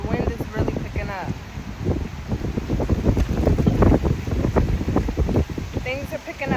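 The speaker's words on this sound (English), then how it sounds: "the wind is really picking up." Strong, gusting wind buffets the microphone in a steady roar, with someone talking over it throughout.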